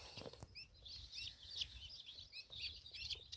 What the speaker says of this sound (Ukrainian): І ось мої цесарятка.